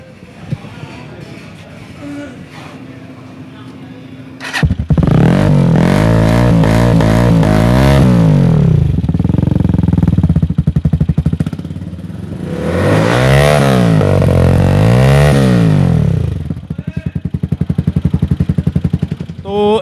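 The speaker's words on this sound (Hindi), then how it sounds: "इसका साउंड बड़ा ज़बरदस्त बनाया हुआ, उन्होंने ये सिलेंसर महंगे वाला लगवाया हुआ है।" A motorcycle fitted with a costly aftermarket silencer idles softly, then bursts into loud, close revving in two long surges with throttle swells and drops, a voice talking faintly beneath.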